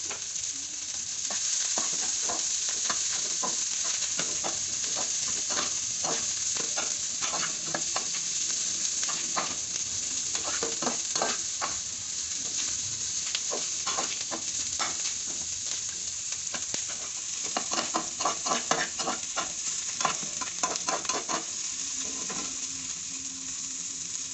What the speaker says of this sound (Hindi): अब हम इसके अंदर सब्ज़ मिर्च ऐड करेंगे और इसको अच्छे तरीके से मिक्स करेंगे।